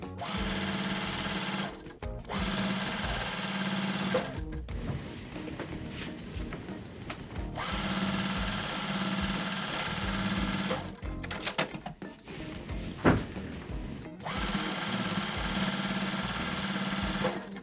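A sewing machine stitches quilt blocks together, right sides facing, in several long runs of steady, loud, close whirring with brief pauses between seams.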